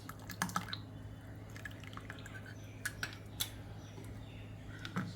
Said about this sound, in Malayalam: നന്നായിട്ട് ഇളക്കി യോജിപ്പിച്ചെടുക്കുക